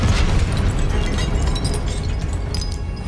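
A Confringo spell explosion in Hogwarts Legacy sounds as a loud, dense blast with crackling debris that rumbles on for a few seconds, with no speech over it.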